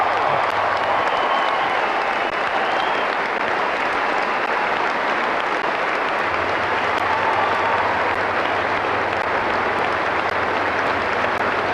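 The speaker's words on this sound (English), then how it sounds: "the number one court crowd, a standing ovation for a quite remarkable young lady" On Wimbledon's Number One Court in 1999, a large tennis crowd gives a standing ovation after a quick women's singles win, with loud, dense, continuous applause lasting throughout, and no individual voice standing out.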